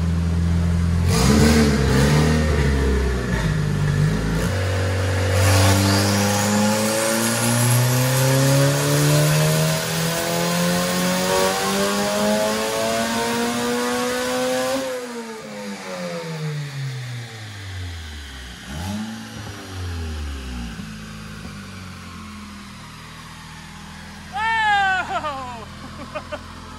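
K-swapped Porsche engine revving on a dyno, a loud pull climbing steadily in pitch for about fifteen seconds, then dropping as it winds down, with a brief rev and faint voices near the end.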